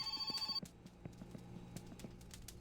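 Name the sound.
phone ringing in the video game My Winter Car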